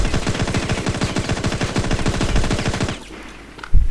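Rapid automatic gunfire in the shooter game InZone Online, a fast even burst of dozens of loud close shots lasting about three seconds, then a pause and one final shot.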